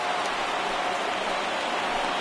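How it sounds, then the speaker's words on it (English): Steady rain pours down on a ballpark during an MLB 19 baseball game between the Yankees and Rays, a constant broadband hiss with no breaks across the whole stretch and no voices over it. "we've mentioned the conditions aren't ideal with the rain coming down"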